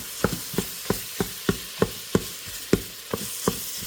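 Italian sausage browning in an Instant Pot, stirred and scraped off the bottom in a steady rhythm of about ten sharp spoon strokes over a soft sizzle, close and alone.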